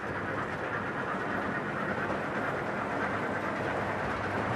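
Scale model train running across a large bridge on an exhibition layout, producing a steady, even rolling rumble with faint clicking of wheels, continuous and fairly close.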